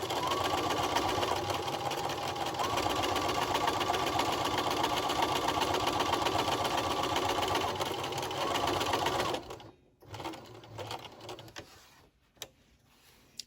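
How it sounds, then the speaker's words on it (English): A sewing machine stitches an elastic ear loop onto a fabric mask, running in a fast, steady whir for several seconds before stopping, with a few handling clicks and rustles after. "I'm going to stitch over it and then back over it and then come back over it just to secure the elastic a little bit."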